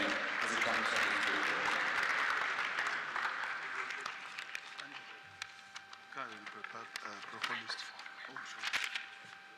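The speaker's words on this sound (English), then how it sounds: "Please, a round of applause for him as he comes to the" A round of applause rises in a legislative House plenary chamber to welcome Senator Shehu Sani, loud at first and then thinning into scattered claps.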